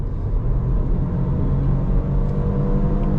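A BMW 2 Series Gran Coupe in boost mode accelerating hard at full throttle, with a steady, loud engine drone and low road rumble filling the cabin throughout, no talking.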